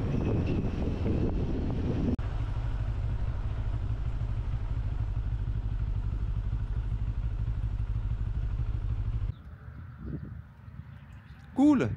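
A motorcycle on a Cappadocia road runs at a steady, loud drone with wind buffeting the microphone, engine held near for about nine seconds before it drops to a lower idle and a rider's voice briefly rises.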